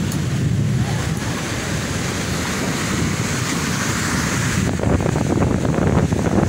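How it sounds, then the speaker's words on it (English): Ocean waves break and wash steadily at Cherai Beach in Kochi, Kerala, a continuous loud roar of surf with wind buffeting the microphone, swelling into a heavier crash near the end. "Cherrai Beach in Kochi."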